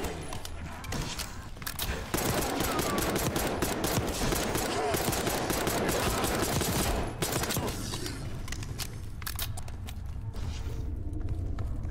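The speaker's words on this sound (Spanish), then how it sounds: "¿Oyes los disparos?" Sustained gunfire in Call of Duty Black Ops 6, dense rapid bursts of automatic shots crackling for most of the stretch, easing toward the end with scattered clicks and mechanical noises.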